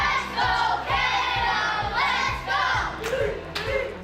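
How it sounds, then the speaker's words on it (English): A crowd of local soccer fans supporting Team Canada at the Women's World Cup chants in unison over a steady, rhythmic beat of claps or drums, with voices rising and falling loudly together. "local soccer fans cheering on Team Canada at the Women's World Cup"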